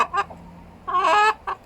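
Hens cluck around a rooster in a henhouse holding Bielefelder and Malines Tête de Dindon chickens, with two short clucking bursts and a longer excited run of clucks, close and clear.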